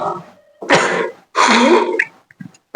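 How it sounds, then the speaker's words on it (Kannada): A man in a North Karnataka comedy skit gives a couple of loud, harsh, close coughs in quick bursts separated by short pauses, with a few softer throat sounds after. "ಕೆಮ್ಮು"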